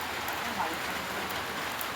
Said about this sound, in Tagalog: Ulan na naman, mahina naman na ulan.